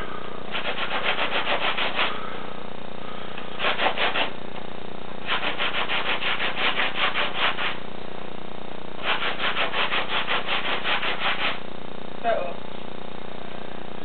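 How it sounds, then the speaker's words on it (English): A scrub brush scrubbing laundry by hand, three bursts of fast rhythmic bristle strokes a couple of seconds each with pauses between, and a brief faint rub near the end. "Sometimes you take this scrub brush"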